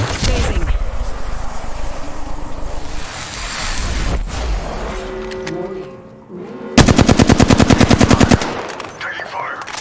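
A video game machine gun fires a rapid burst of sharp, loud automatic shots lasting about two seconds, following a stretch of wind-like ambient noise and scattered single shots, with no talk over it.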